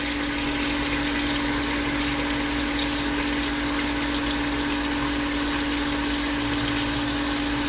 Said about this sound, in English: then you're going to fill the pot with cold water